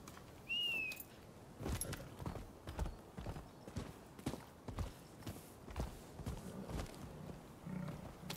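Horse hooves clip-clop in a steady, fairly close rhythm of repeated hoof strikes in Rise of the Ronin, with a brief high whistle-like tone near the start.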